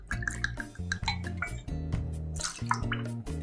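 Campari and vermouth poured over ice for a Negroni, with liquid splashes, drips and glassy clinks of ice in a glass, close and clear, in short bursts.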